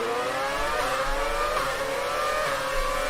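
Formula 1 cars from F1 2019 at the German Grand Prix, engines whining at a steady high pitch as one car tries to pass a Ferrari on the outside, a continuous loud drone with no talk.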